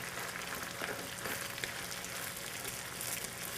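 Oyster stuffing dressing fries in a pan over a medium-high fire, giving a soft, constant crackling sizzle with faint stirring scrapes.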